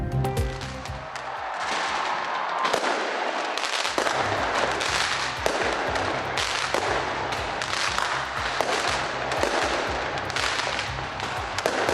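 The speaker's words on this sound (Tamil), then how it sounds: "வான வேடிக்கைகளுடன் புத்தாண்டை மகிழ்வுடன் வரவேற்ற பொதுமக்கள்." New Year fireworks burst over New Zealand in a dense, continuous barrage of loud cracks and booms, with rapid overlapping explosions and crackling for the whole stretch and no voices.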